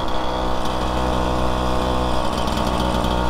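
Warmed-up engine of a naked sport scooter being ridden in third gear, a steady, close, buzzing drone with a constant pitch and no voices.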